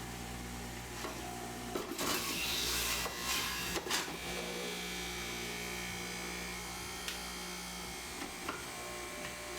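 A juicer runs with a steady electric whine and hum while pressing green vegetables and leaves, rising into a louder grinding burst for a couple of seconds, with occasional clunks as produce is pushed in.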